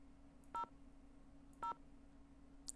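Two short telephone keypad dialing tones from the Nancy Drew: Haunted Carousel game, clean and evenly spaced about a second apart over a faint background hum, with a tiny blip at the end.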